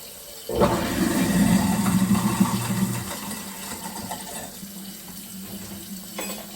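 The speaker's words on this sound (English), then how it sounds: "we got 2 bottles to rinse out and wash because I'm gonna refill them" Tap water runs into a sink to rinse two bottles, a close steady gush that starts abruptly, holds for a few seconds, then thins to a softer trickle and splashing.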